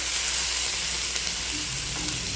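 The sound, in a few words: onion and curry leaves sautéing in oil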